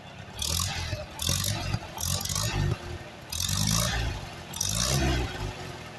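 A Super A tractor engine idles with a steady low rumble and an uneven rhythmic chug, its carburetor running fine at rest but sputtering under load, heard close and alone.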